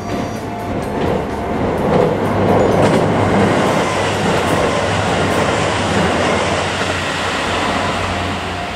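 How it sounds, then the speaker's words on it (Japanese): A four-car Rapid Mie train bound for Nagoya rumbles past close by in Japan with a continuous roar and rhythmic wheel clatter, loud and steady throughout. "後ろから4連のね、快速三重名古屋行きが通過しました"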